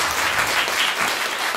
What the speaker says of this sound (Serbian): molim da je podržimo aplauzom, jer je nastupa prvi put